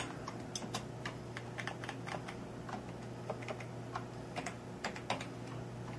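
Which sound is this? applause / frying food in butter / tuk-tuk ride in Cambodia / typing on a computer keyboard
typing on a computer keyboard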